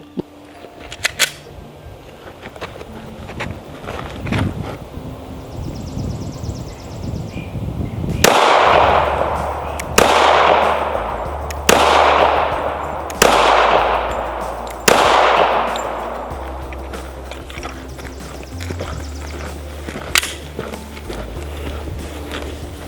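A CZ P-10F .45 ACP striker-fired pistol fires five loud, sharp shots in a steady sequence about a second and a half apart, each followed by a short ringing decay over background hum, with no talk.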